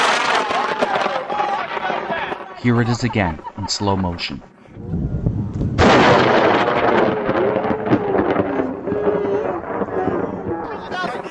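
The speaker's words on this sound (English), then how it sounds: "Lightning less than 50 feet away." Slowed-down replay of a lightning strike less than 50 feet away during a Kansas supercell storm chase, a sudden loud broadband roar swelling partway through, with a narrating voice speaking over it.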